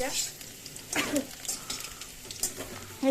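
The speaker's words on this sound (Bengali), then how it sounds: "তো সবে আলুটা ভেজে নিই" Potatoes frying in a pan as the first step of a soybean curry, with a soft sizzle and occasional stirring scrapes running through; a person talks quietly at moments.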